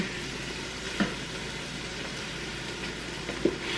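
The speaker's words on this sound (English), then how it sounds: "And I'm going to scrape the bottom, make sure there's nothing sticking" A utensil scrapes the bottom of an Instant Pot over a steady close sizzle, with a couple of brief scraping knocks standing out.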